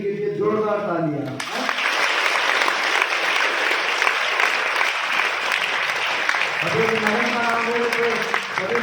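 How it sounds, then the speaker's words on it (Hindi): Loud, sustained applause from students and audience for the faculty at a Mother's Day school program at APS Science, Sikar, rising after a spoken announcement and fading as talking resumes. "एक बार अपने फैकल्टी के लिए जोरदार तालियां"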